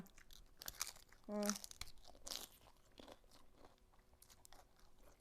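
Someone eats Japanese restaurant food followed by crunchy Western-style vegetables at home, with a few faint crunching bites and chewing sounds close to the microphone, under soft murmuring and low background noise.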